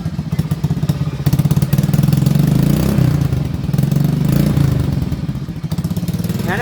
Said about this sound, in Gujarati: આ બાઇક નો અવાજ જોવો તમે.